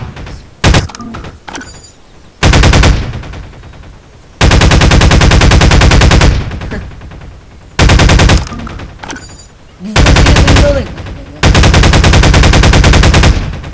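A submachine gun in Garry's Mod fires in loud, long rapid bursts with short pauses between them, sharp and close, and no voices over the firing.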